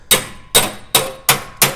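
Hammer blows on a sheet metal panel backed by a dolly during metal shaping, five sharp metallic strikes evenly spaced in a steady rhythm, loud and close, each ringing briefly before the next.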